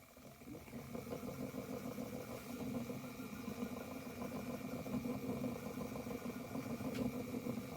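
Electric Eel Wheel Nano spinning wheel motor running with a steady, even hum and faint rattle that holds throughout, fairly quiet and close, with no talking.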